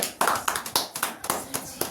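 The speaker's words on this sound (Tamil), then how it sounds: "அவர்களை கைத்தட்டி வரவேற்கின்றோம்." An audience claps to welcome a speaker at a Tamil debate event on how teachers should treat students. The applause comes in bursts of sharp, near claps, fairly loud, with no talk over it.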